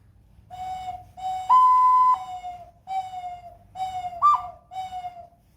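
A dove call whistle blown in a series of soft, hooting tones, six short notes with brief gaps, some rising in pitch, alone and fairly close.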